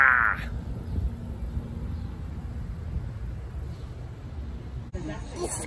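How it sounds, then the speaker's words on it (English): A goat gives one brief bleat at the start, then a quiet outdoor background follows with faint murmuring, in West Virginia. "Yeah, we're gonna see the goats."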